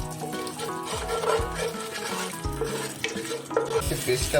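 Sea fish stirred in a pan with cloves, cinnamon and bay leaf gives soft scraping and a gentle sizzle, mixed with steady tonal background sound throughout.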